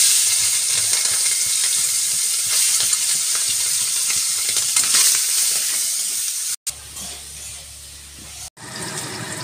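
Shrimp sizzle in a hot pan with radhuni seed tempering, a dense, steady frying hiss that carries on without pause and is briefly cut twice near the end, with no voices.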